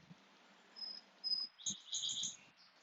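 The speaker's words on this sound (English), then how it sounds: "Make space for the chirping of the birds." Birds chirping outdoors, with thin high tweets and a few brief call bursts over faint insect-like trilling, quiet and somewhat distant.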